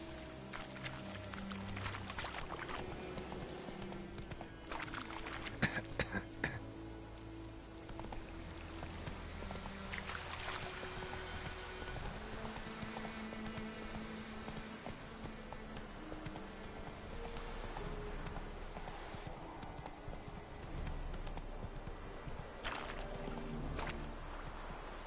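Roach, a horse in a video game, gallops with rapid rhythmic clip-clopping hooves that run steadily throughout, mixed in with game music and ambient sound.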